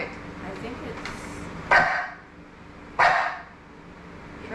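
Dogs at home during a live stream give two sharp, loud barks about a second apart, standing out over a steady background of room noise and low talk.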